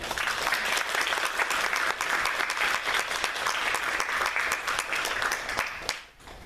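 A congregation at a Thanksgiving church service claps in sustained, even applause that is dense and fairly close, then fades out near the end.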